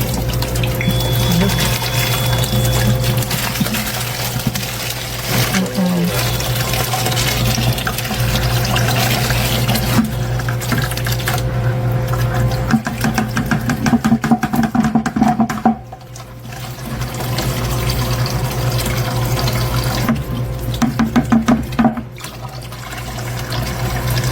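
Water gushes from a gas station soda fountain dispenser, a loud continuous rushing stream that runs steadily at close range with a brief drop midway, no voices over it.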